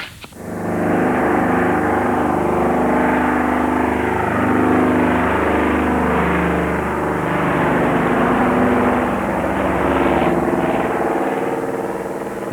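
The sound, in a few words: de Havilland Caribou propeller plane taking off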